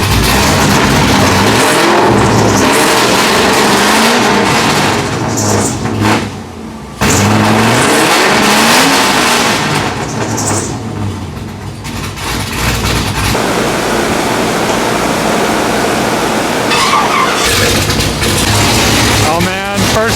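A powerful Pontiac GTO engine roars and revs hard nearby, surging up and down with a brief pause, then settling into a deep rumbling idle, with voices under it.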